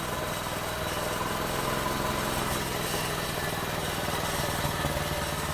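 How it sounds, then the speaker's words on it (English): A small Honda GX160 petrol engine fueled with 80% sugar-water and 20% petrol runs steadily at a constant idle, an even buzzing drone close by with no change in pace. "Your engine would keep going all day."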